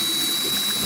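A drill with a 3/16 bit reams out a screw hole on a Tesla Plaid side skirt, a steady close whirring grind with a constant high whine, loud and unbroken.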